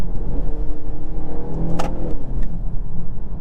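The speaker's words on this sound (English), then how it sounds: "That turbo noise is pretty cool." A 2023 BMW X1 xDrive28i under way, its turbocharged engine giving a steady mid-pitched whir and brief rising spool over constant road and cabin drone, heard from inside.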